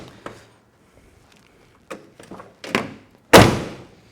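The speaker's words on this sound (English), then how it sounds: "Door shut nice." Several soft knocks and clicks lead up to one loud, heavy slam of a 1976 Chevrolet Monte Carlo door close by, which fades quickly.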